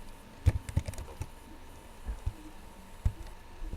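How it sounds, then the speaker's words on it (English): Someone types a college name on a computer keyboard, producing a few scattered, quick key taps close by in short clusters against a quiet room. "let me type Princeton"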